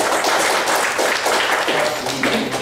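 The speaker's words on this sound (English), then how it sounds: "Let's give him a big round of applause." Audience applause at a fall mentorship workshop, steady and fairly loud, filling the room with dense clapping for its whole length.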